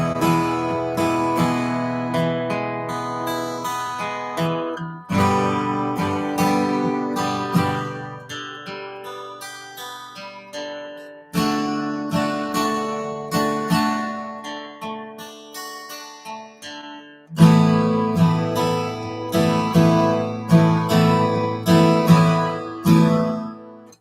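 Acoustic guitar strummed as a warm-up exercise in four phrases, each opening with a strong chord and followed by rhythmic strums that gradually fade, played alone and close.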